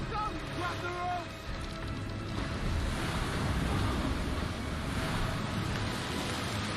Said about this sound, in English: It's coming apart! The wind is too strong.